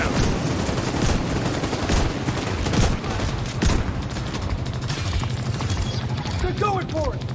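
Video game gunfire rattles in dense bursts and rapid volleys through a multiplayer match, the shots loud and nearly continuous while a player talks over the action.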